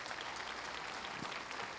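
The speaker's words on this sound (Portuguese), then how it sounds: "Então vamos aplaudir o Senhor Jesus" A church congregation applauds, a dense and steady patter of many hands clapping together at a moderate distance, sustained without a break.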